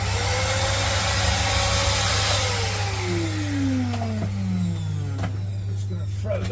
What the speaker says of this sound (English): Just going to throw the vacuum round a bit for a few minutes.